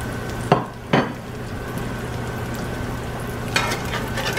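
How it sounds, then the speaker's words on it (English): Steady sizzle of eggs frying in a pan, with a few sharp clatters of utensils near the start and another knock later. "it's all frying up"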